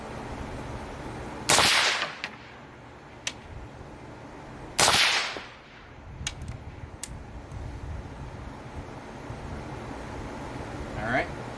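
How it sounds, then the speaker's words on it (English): Two loud, sharp shots from an AGM Adder air rifle during zeroing outdoors, spaced about three seconds apart, each with a brief ringing tail, followed by a few faint clicks and handling noises over low background hum. "I'm going to go ahead and fire off 2 more rounds"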